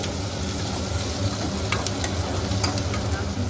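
A spice mixture sizzles and crackles steadily in a hot pan in an Indian home kitchen, with a close, continuous frying hiss and a few sharper pops and stirring scrapes.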